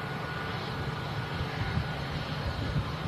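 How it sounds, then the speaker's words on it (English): An EasyJet A320 with Sharklets taxis past at an airport, a steady low jet engine rumble and whine, moderately near and even throughout. "EasyJet A320 with the Sharklets taxiing past"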